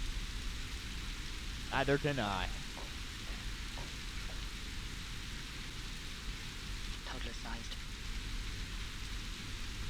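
Steady rain falls across the scene in the Phoenix Springs video game, a constant soft hiss throughout, with a short stretch of speech over it.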